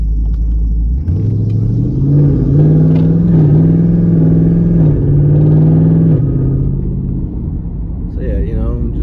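Car with a 6.4L 392 HEMI engine driving, a loud, steady, close low rumble that rises slightly in pitch and holds before easing off.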